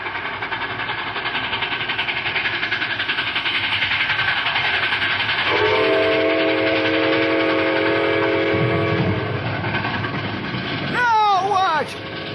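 A train approaches in a radio drama with a steady rumbling roar throughout, a clear whistle blast sounding in the middle, and shouting and other voices over the noise near the end.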